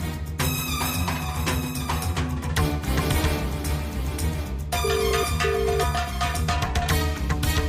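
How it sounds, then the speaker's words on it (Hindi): A melodic phone ringtone plays continuously while a call is placed in a Hindi TV serial scene. The tune is loud and repeats steadily throughout with no voices. "अभी हम लोग विमल को फोन करते हैं"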